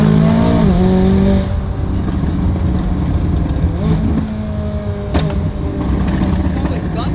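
A McLaren P1 GTR-style sports car engine revs hard, its roar rising and falling, with sharp crackling exhaust pops bursting through near the end.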